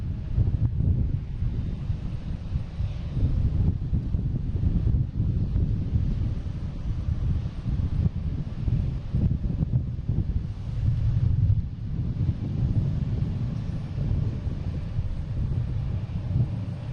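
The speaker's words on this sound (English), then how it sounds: "We also have an American taking off to Charlotte. 1611, 737-800." Boeing 737-800 airliner taking off at Boston Logan, a continuous broad low roar of jet engines heard from a distance outdoors with wind buffeting, steady throughout without pauses.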